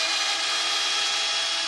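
A power drill bores a pilot hole into wood for patio furniture storage, a brief, loud, steady high-pitched whine with grinding texture lasting under two seconds, close up and without speech.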